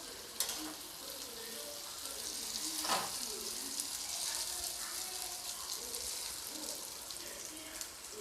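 Okra (bhindi) sizzles steadily as it fries over a low-to-medium flame in a pan, a continuous close crackle with a brief louder burst of spattering partway through, no voices.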